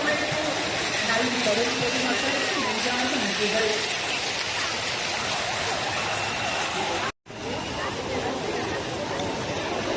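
Water fountain splashing in a landscaped park garden, a steady broadband rush of falling water throughout, briefly cut by a short dropout, with a voice talking over it.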